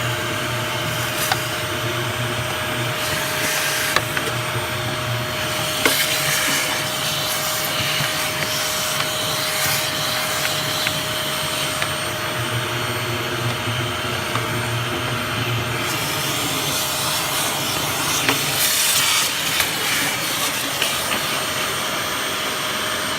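A vacuum cleaner runs continuously inside a Harman pellet stove, a loud, steady roaring whine with slight shifts in tone as the nozzle moves around.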